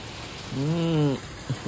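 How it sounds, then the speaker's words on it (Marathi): Heavy monsoon rain hisses steadily and evenly, with a brief tonal hum rising over the downpour midway. "पण यो पाऊस काही थांबायचं नाव घेत नाही"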